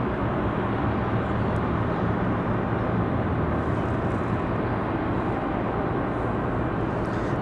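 Broad, steady roar of a jet climbing out on departure at Raleigh Durham airport, loud and constant from start to finish with no voices over it.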